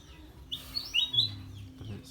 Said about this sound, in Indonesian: Jenis manuke kenari.